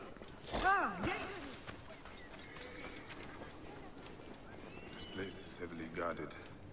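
Horse in Assassin's Creed Origins neighs loudly near the start, then gallops with soft hoofbeats against game ambience, and someone talks over part of it.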